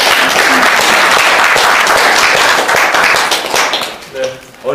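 Sustained applause from the audience at an organisation's annual general meeting, dense and steady clapping filling the room before easing off near the end, where a voice briefly comes through.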